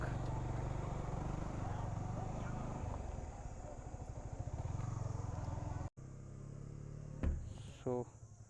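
A motorcycle is ridden up to Tadkeshwar Mahadev temple in the hills near Lansdowne and parked, its engine droning steadily up close, then cutting off abruptly, followed by quieter background with a few clicks and insect-like chirps.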